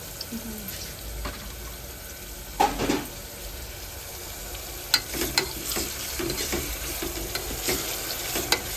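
Onions with salt fry in oil in a pan, a steady soft sizzle broken by several sharp scraping stirs and clatters, recorded close by in a village kitchen.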